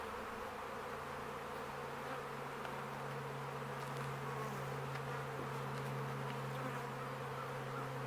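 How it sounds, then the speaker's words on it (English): Dense, steady buzzing of many honey bees, mostly returning forager bees, swarming in front of a hive box during a hive split, a continuous droning hum with no pauses. "all the bees in front of this box are most of the forager bees coming back, looking for their home"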